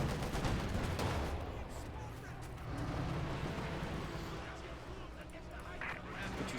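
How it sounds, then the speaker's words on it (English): Katyusha rocket artillery in Company of Heroes 2 fires a dense, rumbling barrage of launches and blasts that runs unbroken through the whole stretch, with a caster's voice talking over it. "Katyusha firing away, he hopes to silence the anti-tank guns."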